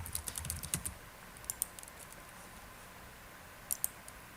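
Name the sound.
typing on a computer keyboard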